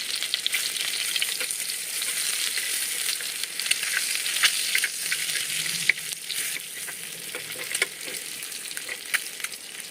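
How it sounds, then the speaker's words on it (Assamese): Eggs fry in oil in a frying pan and are turned over, a loud, steady bright sizzle with scattered small crackles and pops throughout. "এটা ফ্ৰাই পেনত অলপ তেল দিছো তেল দি ডিমকিটা ইলুটি হিলুটি কৰি অলপ ৰঙচুৱাকৈ ভাজি লৈছো"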